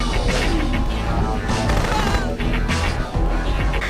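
Rapid gunfire and blasts from the PS1 video game Future Cop LAPD, loud and continuous, with dense bursts of shots and explosions layered throughout and no talk.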